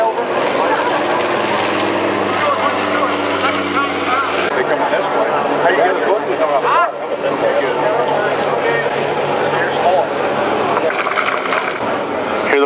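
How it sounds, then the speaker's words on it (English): A heavy World War II bomber makes a low pass at a Lest We Forget commemorative event, its propeller engines giving a loud, steady, droning roar that lasts the whole clip. "Here the bombers are coming around for a second pass."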